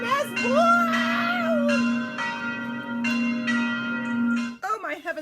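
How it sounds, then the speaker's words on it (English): A big bell rings loudly with a sustained, resonant tone and repeated strikes, while an adult voice reads a children's story over it, exclaiming and half-singing along. "The rope rang the big bell right into Mrs. Bird's nest"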